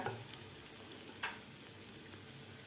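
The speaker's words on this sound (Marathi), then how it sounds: "आता व्यवस्थित शेंगदाण्याचं कूट डाळ परतून झालेली आहे" Dal and crushed peanuts sauté in a pan for a fenugreek-leaf dal, giving a soft continuous sizzle with a few faint spoon scrapes and taps.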